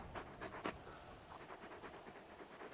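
Torgal, the large dog companion in Final Fantasy 16, pants softly in quick, rhythmic breaths, close and fairly quiet.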